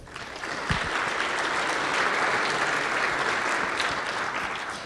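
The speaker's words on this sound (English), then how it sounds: "Let's give them one more round of applause." Sustained audience applause at a tech conference, steady and full from start to finish after a brief rise, with no voices over it.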